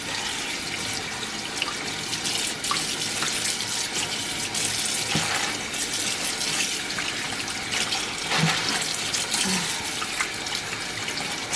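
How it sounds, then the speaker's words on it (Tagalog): Tap water runs steadily into a kitchen sink while raw beef is rinsed for mechado, a loud continuous close splashing with occasional clunks of handling. "Nalinis naman na po siya before, kaya lang, hugasan pa natin ng konti."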